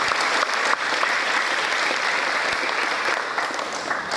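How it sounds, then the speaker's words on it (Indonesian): Lively audience applause fills a hall at an Indonesian parenting and religious seminar, a dense, steady clapping that holds at full strength without pause, with no talk over it. "Tepuk tangan yang meriah."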